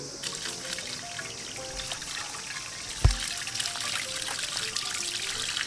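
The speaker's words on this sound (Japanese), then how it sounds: "これ水で洗います" Running water trickles and splashes steadily over the exposed roots of a root-over-rock Chinese quince bonsai as they are rinsed, with one brief louder splash midway.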